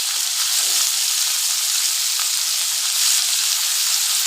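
Potato pieces fry in hot oil with a little turmeric, giving a steady, close, even sizzle that carries on without a break and with no voices.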